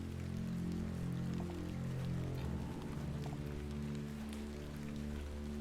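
Steady rain falls at night in The Excavation of Hob's Barrow video game, a dense continuous patter with a low droning background, heard alone without talk.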